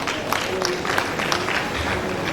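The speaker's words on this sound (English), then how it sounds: "please clap for him" Audience at a tourism panel discussion clapping, a short burst of scattered applause with a few louder individual claps over room murmur.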